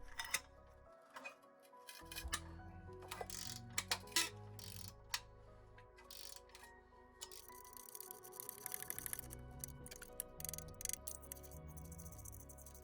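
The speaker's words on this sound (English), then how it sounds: "Use the spanner to help ease the bolt out" A spanner works a bolt loose on a Nissan 350z rear subframe, giving quiet, irregular metallic ticks and ratcheting clicks in close, faint bursts.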